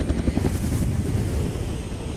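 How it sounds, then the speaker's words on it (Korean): A helicopter arrives at a remote wilderness camp in a film, its rotor thudding as a steady, loud low rumble with wind-like rushing throughout. "곧 도착하는 헬기"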